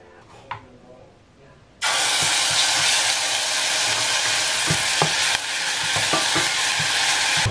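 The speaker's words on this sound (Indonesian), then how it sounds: "Kita siapkan si panci. Terus kita kasih minyak dikit." A little oil in a pan sets off a sudden loud sizzle, with spoon-stirring scrapes and clinks over a steady frying hiss that keeps going to the end.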